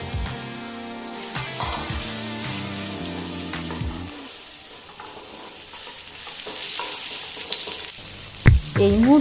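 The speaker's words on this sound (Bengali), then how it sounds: "তুলে নিয়ে এই তেলে আলুগুলোকে ভেজে নেব" Potatoes frying in hot oil, previously used to fry rohu fish for a Bengali fish curry, give a steady close sizzle with stirring scrapes, while tonal background music runs through the first half and a few clatters come near the end.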